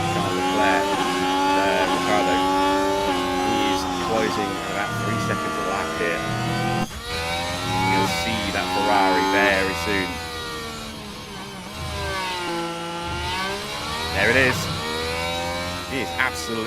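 F1 cars race around the Hungary circuit in F1 Manager 2026, engine notes rising and falling continuously and loud, with commentary talk running over the top throughout.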